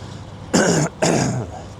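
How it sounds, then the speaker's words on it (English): Two rough, raspy throat-clearing bursts close to the mic, separated by a short pause, with no talking. "I got a cough, excuse me. Clear my throat."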